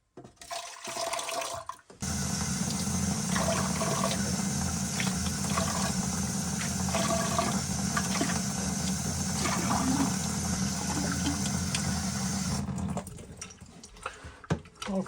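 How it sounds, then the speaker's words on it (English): Water running continuously into a plumbing drain trap as it is refilled while tracking down a sewer smell, a steady rushing pour lasting about eleven seconds with quieter handling sounds before and after. "fill this trap up with some water."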